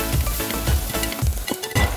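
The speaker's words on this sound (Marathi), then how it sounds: "कांदा या फोडणीमध्ये फ्राय करून घेऊया." Onion hits hot tempering oil with browned garlic and asafoetida, crackling in a steady, close sizzle broken by regular thuds and scrapes of a spoon stirring the pan.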